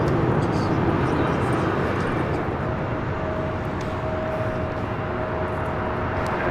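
A Boeing 737 MAX 8 airliner taxis at LAX, a steady broad engine roar holding loud throughout with a faint thin whine drawn across the middle and end.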